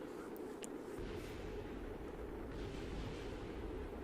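A rocket blows up in Kerbal Space Program, leaving a low, continuous rumbling roar with faint crackles, steady and moderately distant for several seconds.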